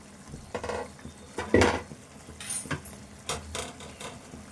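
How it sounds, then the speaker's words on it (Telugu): A spoon scrapes and knocks against a pan while chicken green chilli curry is stirred over a low flame. The metallic clinks come in irregular, close strikes, with a faint simmer underneath and no talk. "మళ్ళీ ఒకసారి కలుపుకుందాము"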